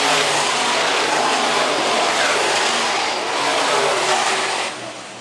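IMCA Modified race cars run on a dirt track at Phillips County Raceway in a loud, dense engine roar from the passing field, easing off near the end.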